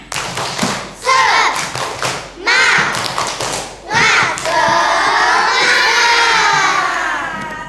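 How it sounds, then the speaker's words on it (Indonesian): Indonesian schoolchildren perform a tepuk semangat classroom clapping chant, loud rhythmic claps and thumps in bursts punctuated by shouted chanting voices, ending in a long group cheer. "Sekarang biar lebih semangat lagi, kita tepuk semangat dulu di siang hari ini."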